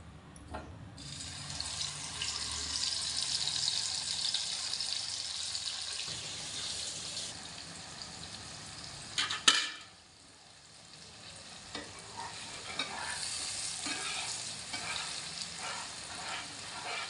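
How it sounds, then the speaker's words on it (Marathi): Green masala paste of herbs, salt and turmeric hits hot oil in a pan and fries with a steady sizzle, broken by a sharp clatter midway, then continues sizzling close and moderately loud without talk. "तर तेल गरम झाले तेलात टाकून घेऊया"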